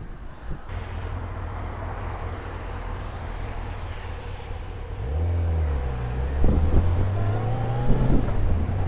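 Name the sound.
Kawasaki ZZR 600 motorcycle engine running after fuel tap turned on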